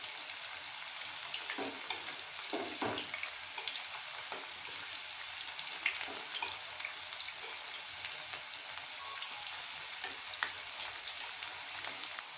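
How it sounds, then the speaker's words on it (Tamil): Cauliflower for cauliflower chilli fries in hot oil with a steady, soft crackling sizzle throughout, broken by occasional scraping stirs of a spatula in the pan, close and fairly quiet, without speech. "ஒரு நிமிஷம் ஆன ஒரு கூட களைச்சிக்கலாமுங்க."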